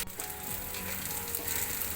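Sliced okra sizzles in an open pan with salt, frying toward crispness with a constant bright crackle and a few faint stirring scrapes, no voices.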